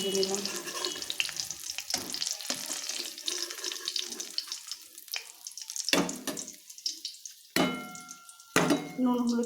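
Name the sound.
frying paneer pieces in oil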